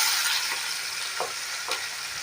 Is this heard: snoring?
no